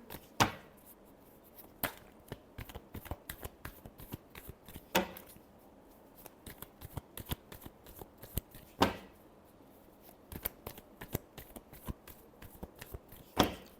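Tarot cards are shuffled close by in quick riffling bursts and sharp slaps, an irregular run of crisp flutters and taps with no talking.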